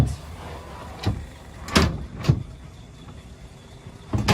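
A sliding door on a 2018 Catalina 425 yacht rolls shut and latches, giving a few distinct thuds and slides close by, with a final knock near the end.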